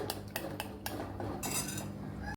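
Eggs being beaten in a bowl for a capsicum and egg curry, with repeated clinks and scrapes of a utensil against the bowl and steady whisking close up, no talking.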